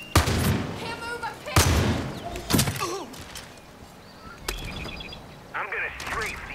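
Strafing gunfire in the Far Cry 5 video game: a handful of sharp, loud shot bursts at uneven intervals, separated by quieter stretches of in-game sound.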